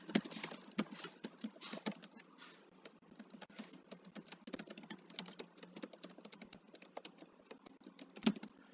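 Code being typed on a computer keyboard, with quick irregular key clicks and occasional louder keystrokes, close and steady, with no one speaking.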